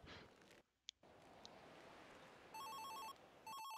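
A phone rings with two short electronic trilling bursts, the second cut off, following a quiet room hiss and a single faint click.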